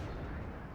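Explosions from an enemy bombing run in the real-time strategy war game Wargame: Red Dragon, a dense, continuous low rumble of blasts lasting under a second at moderate level.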